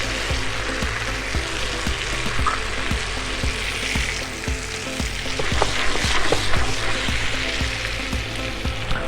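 Potatoes sizzle and fry steadily in butter with herbes de Provence, a dense, continuous crackle up close with occasional stirring and utensil clatter; no voices.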